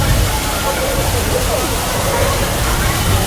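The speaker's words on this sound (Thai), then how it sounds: "ว้าว มีน้ำตกด้วยนะจ๊ะ" Waterfall at Legoland, a steady loud rushing wash of falling water filling the whole clip, with a voice talking over it.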